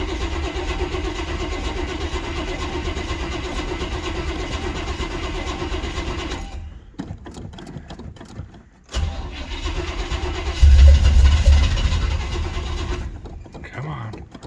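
An old car, not driven in a long time and jump-started from a jump pack, cranks and catches, then runs at a rough idle. After a brief pause the engine starts again and revs up, loud and close, with voices talking over parts of it.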